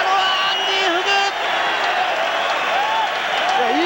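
A packed arena crowd at the 1997 K-1 fight night in Switzerland roars and cheers continuously at the close of the Andy Hug versus Mike Bernardo bout, a loud, unbroken wall of noise with whoops and whistles.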